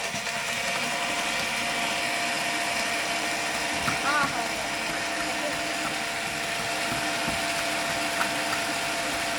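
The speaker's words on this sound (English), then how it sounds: "Put it in your blender." A blender making an Oreo milkshake whirs continuously at a steady pitch, a dense mechanical drone that holds throughout without pause.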